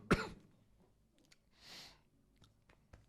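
A person coughs indoors: one sharp loud cough at the start, then quieter throat and breathing noises, a soft rasp and a few faint clicks and coughs.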